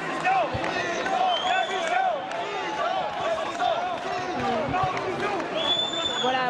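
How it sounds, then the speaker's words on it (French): Crowd at the Salon de l'Agriculture booing and whistling at François Fillon, a dense tense clamor of shouts and rising whistles with some clapping, moderately distant and sustained throughout. "François Fillon qui a malgré tout essuyé des huées et des sifflets"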